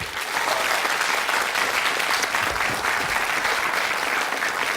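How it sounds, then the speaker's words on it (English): Studio audience applause on a game show, a dense, even roar of clapping that holds steady and fairly loud from start to finish with no voices over it. "another round of applause, please, as he retakes his seat"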